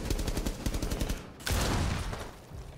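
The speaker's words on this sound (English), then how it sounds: "Oh, I'm shooting a dead body." Automatic gunfire in Rainbow Six Siege, rapid evenly spaced shots in a sustained burst, then a brief pause before a louder, closer blast and more firing, with no speech over it.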